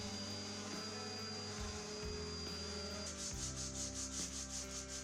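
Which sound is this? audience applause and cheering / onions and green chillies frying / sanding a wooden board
sanding a wooden board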